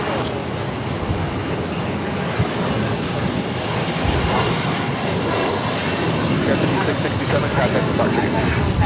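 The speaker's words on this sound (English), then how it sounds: "Delta Connection 5667 taking off to Washington Reagan National on the E175" An Embraer E175 jet operated as Delta Connection taking off from Boston Logan, a steady, broad engine roar that holds throughout, moderately loud, with a voice talking over it.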